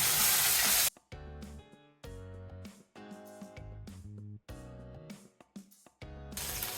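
Onions fry in hot oil with ground ginger and cumin paste for a Bengali village dish, loud hissing sizzle broken by repeated stirring and scraping, bursts starting and stopping in an uneven rhythm, no voices.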